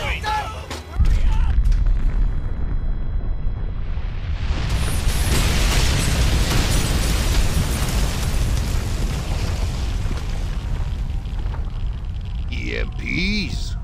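A tactical nuke explodes in the Frontlines: Fuel of War video game: a heavy roar that starts abruptly and swells into a loud, sustained rumbling blast lasting many seconds, with a voice briefly audible near the end.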